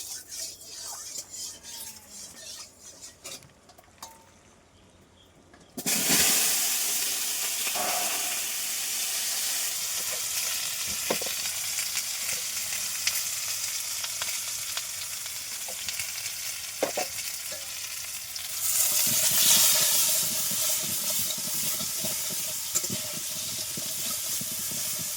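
Country chicken with ground spice paste cooking in oil in a pot over a clay stove, a quiet stretch giving way to a loud continuous sizzle with occasional stirring clatter, close up, swelling brighter near the end.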